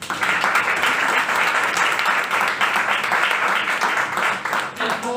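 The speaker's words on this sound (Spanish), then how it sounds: "Un aplauso." An audience applauds steadily at a Falla Quart - Turia sketch presentation during Fallas in Valencia, a continuous, fairly loud wash of clapping with faint voices mixed in.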